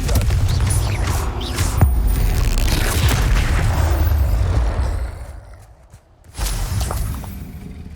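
A fiery Confringo spell blast from the Hogwarts Legacy video game bursts with a deep booming roar and crackle, rumbling steadily before fading, then a second burst rises near the end.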